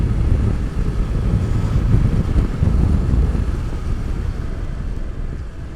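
BMW S 1000 XR motorcycle spinning its tires to clean off mud, a steady loud engine roar with churning low rumble and wind buffeting throughout, no voices.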